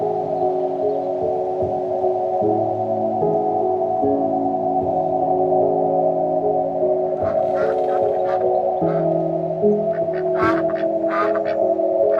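Several short quacks from ducks at Oslome reservoir break out in the latter half, over a constant loud droning hum with shifting tones.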